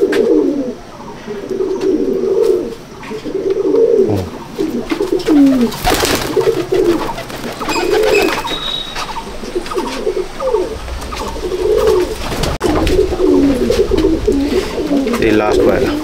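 Pigeons coo in a loft, repeated soft rolling calls recurring every second or two, close and clear, with people talking over them and a brief clatter partway through.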